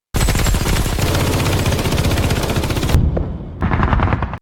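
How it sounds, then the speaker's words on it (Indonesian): Loud, close machine-gun fire from Russian troops in the film Hunter Killer rattles in one long continuous burst, stops briefly, then resumes for a shorter burst. "pasukan Rusia mulai menembak sembarangan dan mengenai Zakharin di perut"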